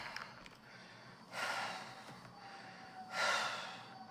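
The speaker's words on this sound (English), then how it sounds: "This is the breathing of taking out the trash." Heavy breathing from a woman taking out the trash comes in two slow, breathy exhales, soft and close, separated by a quiet stretch.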